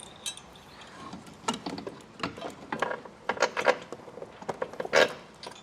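A bolt is run through and ratcheted tight on a Roadmaster Direct-Connect base plate on a 2018 vehicle, with a close series of sharp metallic ratchet clicks in uneven bursts and no talking.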